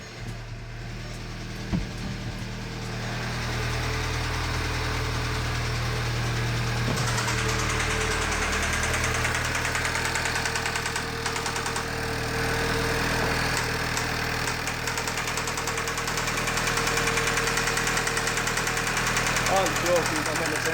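An Audi A3 engine idles after an intake carbon cleaning, a steady low rumble with a faint knock and vibration that settles in after startup, heard up close.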